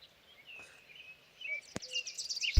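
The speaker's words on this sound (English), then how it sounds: "relatively loud bird" A loud bird calls with a string of sharp, high chirps and whistles that grow busier and closer toward the end, alone with no talk.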